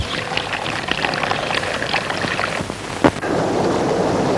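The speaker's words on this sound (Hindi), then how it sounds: "आज इतना पानी डाला मगर घड़ा भरने का नाम ही नहीं लेता।" Water poured into a clay pot: a continuous rushing, splashing pour fills the clip at close range, with a brief sharp knock near the end before the flow resumes somewhat brighter.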